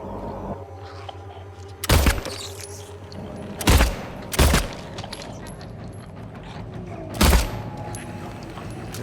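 Gunshots in the Silent Hill 2 Remake, four loud separate blasts spaced unevenly over a low droning game ambience, each with a short booming tail.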